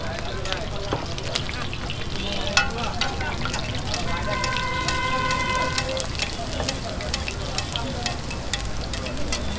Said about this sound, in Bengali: এই তেলে লুচি ভাজেন